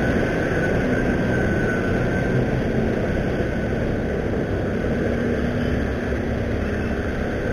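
A train runs along an elevated railway near Manggarai, a steady, loud, broadband rumble that holds evenly for the whole stretch without pause.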